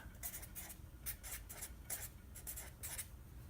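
A pen writing out a sketch on paper, a series of quick scratchy strokes in short bursts with brief gaps, close and quiet, with no voices.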